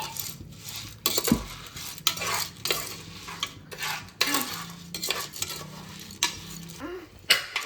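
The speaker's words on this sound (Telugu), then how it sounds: "ఇప్పుడు వేడెక్కే వరకు వేయించుకుంటానే ఉండాలి" Popcorn kernels are stirred in a hot pan on a stove, giving a series of close, rhythmic scraping and rattling strokes about once a second, each followed by a faint sizzle.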